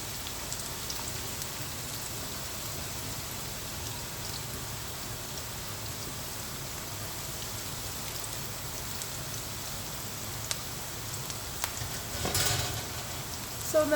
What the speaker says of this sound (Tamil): இந்த வெங்காயத்தை நாம் நல்லா ஃப்ரை பண்ணிடலாம்